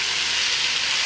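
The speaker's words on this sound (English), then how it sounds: "And I'm just going to let them saute" Zucchini, squash and tomatoes sautéing in a pan, a steady close hiss of sizzling with no pauses.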